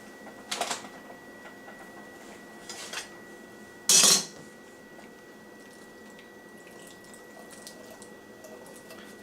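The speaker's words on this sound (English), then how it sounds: "Mix that up very nicely." A spoon scrapes and clinks against a dish while tuna casserole with green peas is stirred, a few soft scrapes followed by one loud sharp clatter, then quiet room tone.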